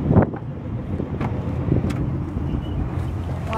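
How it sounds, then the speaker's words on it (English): Wind blows outdoors on a gusty day, buffeting the microphone with low rumbling gusts and a steady roar, with some faint passing traffic noise behind it. "It's really windy today."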